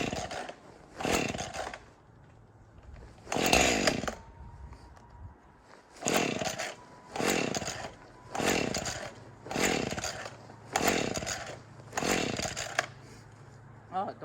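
A chainsaw revs in repeated loud bursts, about eight in a row, dropping to an idle between them, out in snowy woods in 9-degree cold.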